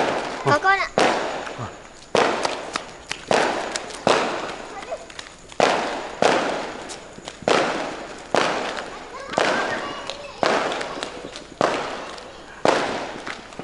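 Firecrackers and fireworks bang repeatedly during Hari Raya Aidilfitri festivities, a steady series of about a dozen sharp, loud blasts roughly one per second, each with a decaying echo, with a few voices faintly in the background.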